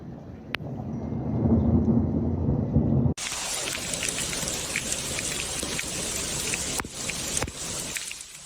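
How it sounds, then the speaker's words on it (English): A thunderstorm with heavy rain in Mecca: a low rumble of thunder under steady rainfall, then an abrupt switch to loud, dense hissing rain pounding surfaces, with a couple of sharp cracks near the end. "Cities such as Taif and Mecca were also affected by thunderstorms."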